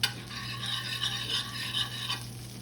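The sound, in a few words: butter foaming and sizzling in a hot pan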